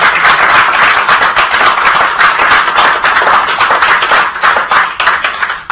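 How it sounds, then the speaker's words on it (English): At a live evening broadcast on dental stress and burnout, an audience claps for the guests, with loud, dense, continuous hand claps close by and no talking over them. "A big round of applause for my guests."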